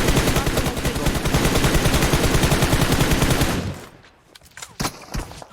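Rapid sustained bursts of gunfire, loud and continuous for several seconds, then stopping and giving way to scattered clicks and handling noises.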